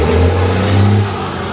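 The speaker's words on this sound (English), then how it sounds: "There's a lot of traffic right here. Northside Drive. So y'all gonna hear a lot of traffic." Street traffic on Northside Drive, with a nearby car engine revving and rumbling past, loud and close for about a second before easing into a steadier background hum.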